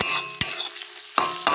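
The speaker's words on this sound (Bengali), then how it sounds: "একটু নাড়াচাড়া করে নিলাম" Potatoes and spices with coriander powder are stirred in a pan, giving a few quick scraping strokes of a spoon against the metal over a low sizzle.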